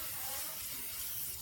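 WD-40 sprayed from an aerosol can onto a car headlight, a steady continuous hiss lasting the whole moment, close and fairly loud with no pause.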